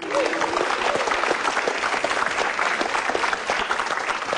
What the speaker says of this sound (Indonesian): Beri tepuk tangan untuk Jui